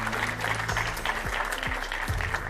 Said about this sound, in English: a round of applause for our two MEPs on The Ring, Stine Boss and Tilly Metz.